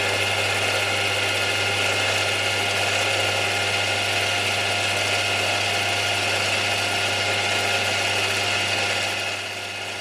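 Centre drilling a steel weight for a model steam locomotive on a machine, a steady whirring drone with a constant low hum, fading slightly near the end.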